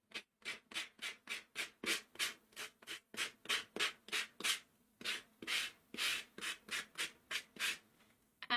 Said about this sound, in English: I'm going to take some sandpaper and just kind of rough up the edges a little bit